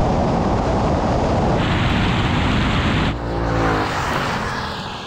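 A Ford Mustang and a Ford Mustang Mach-E GT launch side by side in a drag race, a loud, close, broadband roar and rush of wind that holds strong, then shifts and eases as the cars pull away.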